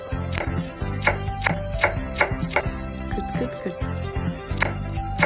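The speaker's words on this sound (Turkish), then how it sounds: "Soğan da küçük küp küp doğradık." Rapid, rhythmic knife chops dice an onion into small cubes on a cutting board up close, a quick run of sharp taps with brief pauses between bursts.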